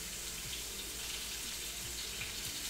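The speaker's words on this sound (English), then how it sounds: "Might have to add a little bit of water." Water runs steadily into a pan of apricot glaze, a continuous close rushing hiss throughout with no voices.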